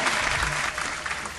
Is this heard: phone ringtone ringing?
no